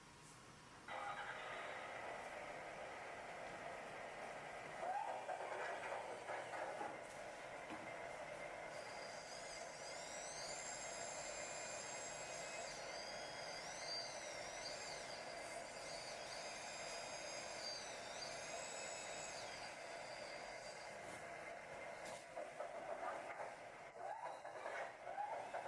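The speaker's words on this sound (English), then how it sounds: "let's take a look at the 914 sound system." Sound system of a 1/14 scale Liebherr C914 RC excavator model: a steady, even engine-like drone that runs throughout with no pauses, with faint whining tones rising and falling over it partway through.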